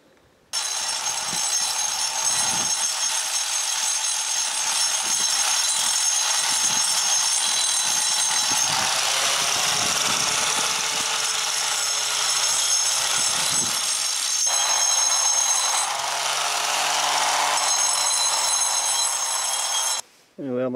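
A pitcher pump part is being ground down to fit. A loud, continuous abrasive whir fills nearly twenty seconds, dipping in pitch now and then as the grinder bites, before it cuts off abruptly.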